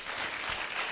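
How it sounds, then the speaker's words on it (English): An audience gives a round of applause at a small business workshop: a short, steady wash of dense clapping with no voices over it. "Let's give him a round of applause for that."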